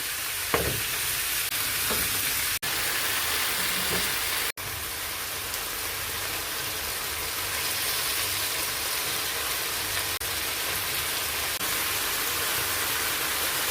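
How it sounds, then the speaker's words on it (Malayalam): Chicken frying in a pan with garlic, curry leaves and turmeric for pepper chicken, a steady close sizzle and crackle throughout, with a few sharp clicks and faint stirring taps. "ഫ്ലെയിം മീഡിയത്തിൽ വെച്ചിട്ട് ഫ്രൈ ചെയ്തെടുത്താൽ മതി"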